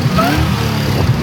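The supercharged LSA V8 in an HSV VF, running with a poor intake and an exhaust leak on the header, gives a brief loud rev, a rough deep engine roar close by.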